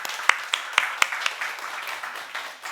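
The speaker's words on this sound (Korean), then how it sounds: "우리 교사분들에게 한번 너무 감사합니다 이렇게 박수 한번 주셨으면 좋겠습니다." Church congregation applauding the teachers at a Sunday service: sparse, scattered claps at first, a handful of sharp hand claps spaced apart before thinning into softer clapping, moderately quiet.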